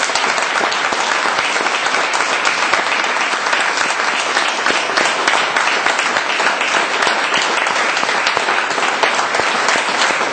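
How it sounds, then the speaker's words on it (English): Audience applause at a Chicago Fight Club storytelling event: loud, dense, continuous clapping from a crowd that fills the whole stretch at a steady level, with no speech over it. "So if we could all just show a hand of applause to them"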